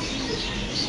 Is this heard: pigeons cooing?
yes